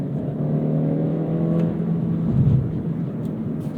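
Modified Acura Integra A-Spec engine revving steadily up toward a 6,500 RPM redline, a loud sustained droning pull with rising harmonic tone heard from inside the car, no talking.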